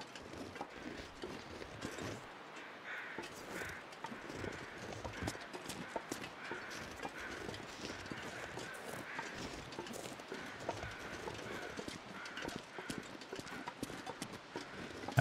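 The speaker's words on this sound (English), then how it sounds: "I think maybe I was hearing the doe's footsteps back there." Deer footsteps in the survival game The Long Dark, a dense, steady run of rapid hoof-like thuds and crunches at moderate loudness, continuing throughout without talk.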